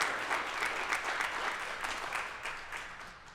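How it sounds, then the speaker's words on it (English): A cannabis education conference audience gives a round of applause, steady and fairly close, with a few individual claps standing out and the clapping tapering slightly toward the end. "Can we give him one more round of applause, please?"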